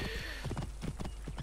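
Rapid clip-clop of a horse's hooves galloping in Assassin's Creed Origins, a steady quick rhythm of thuds under game ambience, with no talking.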